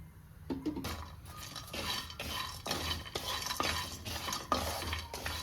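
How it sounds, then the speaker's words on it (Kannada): Dry fruits, including melon seeds, roasting in a little ghee over a low flame, with a spoon scraping and stirring against the pan in repeated strokes, soft clinks and a faint sizzle underneath. "ಈ ಎಲ್ಲ ಡ್ರೈ ಫ್ರೂಟ್ಸನ್ನು ಸಣ್ಣ ಉರಿಲಿ ಸ್ವಲ್ಪ ತುಪ್ಪ ಹಾಕ್ಕೊಂಡು ಹುರ್ಕೊಳ್ತೀನಿ"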